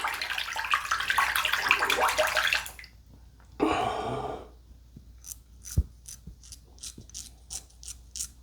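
Running water from a tap rinses a razor for a few seconds, then a second short burst, followed by a string of small sharp clicks and taps as the razor is knocked against the sink.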